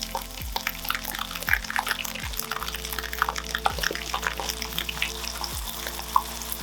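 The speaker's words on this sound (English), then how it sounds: "Add a splash of oil to a pan and once hot enough, place the bass fillets in skin side down" Bass fillets fry skin side down in hot oil in a pan, a steady crackling sizzle with small pops, close and moderately loud, with faint clinks and no talking.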